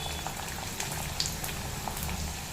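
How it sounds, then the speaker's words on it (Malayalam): Okra and chillies fry together in a pan, making a faint, steady bubbling crackle with scattered tiny pops. "നമ്മുടെ വെണ്ടയ്ക്കയുടെ കൂടെ ഈ മുളകും കൂടി ഇട്ട് ഒന്ന് വറുത്തെടുക്കാം."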